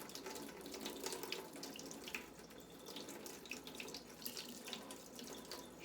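Water runs from a kitchen tap into a sink while bread and chicken legs are prepared, a steady broadband splashing stream with small drips, fairly quiet and unbroken throughout.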